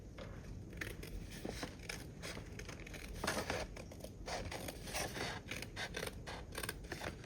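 Scissors cut the excess paper off a binder album page with a string of close, crisp snipping and crinkling sounds in an uneven rhythm, with no voices.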